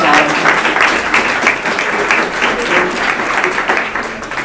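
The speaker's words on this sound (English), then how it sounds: "A round of applause for this great hackathon." Loud, dense applause fills the room at the final pitch session of the Sustainable Blockchain Hackathon '22, a continuous wash of many hands clapping at once that holds steady for several seconds.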